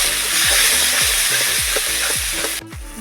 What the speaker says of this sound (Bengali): তেলের মধ্যে দিয়ে দেবো মটরশুঁটি বাটাটা। ভালো করে এটাকে ভেজে নিচ্ছি আমি আগে।